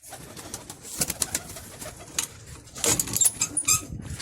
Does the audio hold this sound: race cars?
no